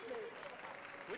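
An audience applauds Luke Bryan at a Super Bowl LI press conference, a faint, steady patter of clapping heard under voices.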